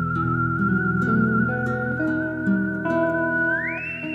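A sustained whistled melody over a dense musical backing, steady and fairly loud, with a rising note near the end.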